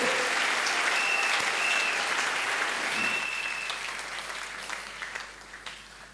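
A church congregation applauds with sustained clapping that starts full and thick and then slowly thins and fades. Some voices cheer through it.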